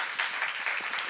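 A church congregation claps together in a dense, continuous burst of applause heard from within the room, with a voice faintly underneath.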